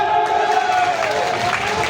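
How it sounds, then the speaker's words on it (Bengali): An audience applauding and cheering for Tarique Rahman at a Bangladeshi speaking event, a steady wash of crowd noise lasting the whole moment. "তার জন্য একটি করতালি হবে না?"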